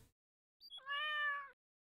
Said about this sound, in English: You see this cat here?